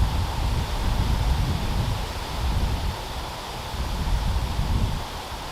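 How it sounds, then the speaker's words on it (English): Steady wind blowing against the microphone, a continuous rushing roar with low rumbling gusts and no voices. "Again, I'm in the windy spot,"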